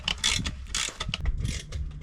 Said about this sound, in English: Let me show you how easy it is. Comes with this wrench.